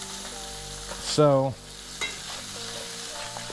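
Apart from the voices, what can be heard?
fish sizzling and frying in a pan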